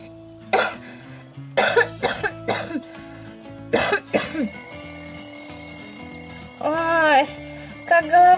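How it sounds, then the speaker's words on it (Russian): A bell alarm clock rings loudly and continuously, following a run of coughs, while a voice groans and talks over the ringing. "Еще этот будильник звенит."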